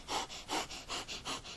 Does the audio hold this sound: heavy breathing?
yes